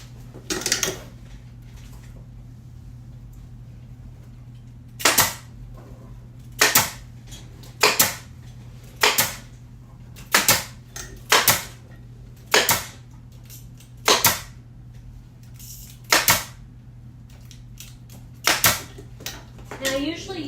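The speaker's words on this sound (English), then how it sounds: "and then we'll staple" A staple gun driving staples into ottoman upholstery, a series of about fourteen sharp loud snapping shots at irregular intervals, some in quick pairs, over a low steady hum.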